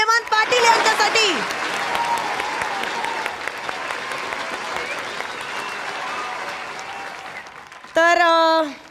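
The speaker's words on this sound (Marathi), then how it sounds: "जोरदार टाळ्या हेमंत पाटील यांच्यासाठी" A studio audience at a Marathi comedy show claps steadily for several seconds, a dense, even wash of many hands, while a host's voice rises over it at the start and end.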